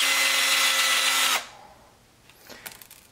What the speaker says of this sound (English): and we're just going to drill it.